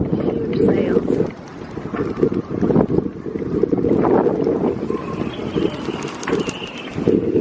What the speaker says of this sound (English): the wind was so strong, especially near the coastline